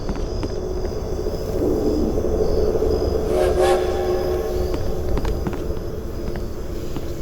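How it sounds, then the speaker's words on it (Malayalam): A train in a horror video game, heard as a steady low rumble of rolling rail noise throughout, with a brief high horn-like tone near the middle and no speech. "ഇതാണോ ട്രെയിന്?"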